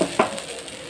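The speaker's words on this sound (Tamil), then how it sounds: "இப்போ தோசை ஒரு சைடு வெந்துருச்சு, நம்ம திரும்பி போட்டுக்கலாம்." A bamboo rice dosa on a hot pan just after flipping, with a brief scrape of the turner followed by a soft, even sizzle, close by and short, with no voices.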